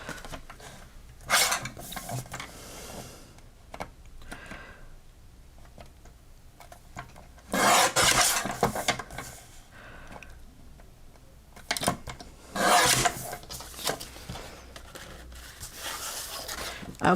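Red card paper being trimmed to a clean edge during a craft session, with several sharp bursts of cutting and paper scraping separated by quieter handling sounds, close and fairly loud.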